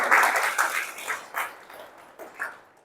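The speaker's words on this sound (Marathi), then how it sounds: "आपण भैयूसाठी जोरदार टाळ्या वाजवूयात" Audience applause at a devotional Guru Purnima gathering, a burst of clapping that rises at the start then thins into scattered, uneven claps over a few seconds.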